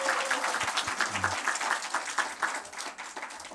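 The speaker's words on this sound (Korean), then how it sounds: "다시 한번 박수" A church congregation applauds after a children's dance, steady clapping that rises quickly and then thins out, fairly close, with a brief low murmur early on.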